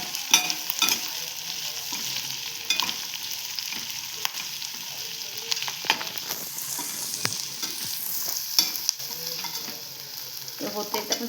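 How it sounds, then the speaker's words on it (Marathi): Paneer chili sauces sauté in a hot pan with a steady, close sizzle and frying hiss, broken by occasional stirring scrapes and taps, with no voices. "थोडं परतवून घेऊया ना, थोडं शिजवायचं ते"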